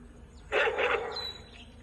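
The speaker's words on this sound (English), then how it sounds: "right now this is the dog bark." A recorded dog bark played through a monkey deterrent system on a plantation gives a short double woof near the middle, moderately loud against faint background hiss.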